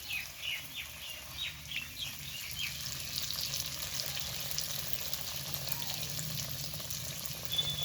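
Aloo toffee pakoras dropped into hot oil fry with a soft, continuous bubbling sizzle, fairly faint and steady, with a few light crackles and clinks early on and no voices.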